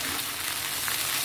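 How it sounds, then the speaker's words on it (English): Boiled potatoes sizzle and fry in a pan for a potato bhaji, a steady close hiss with no talking. "You hear the sizzle? That's what we are looking for."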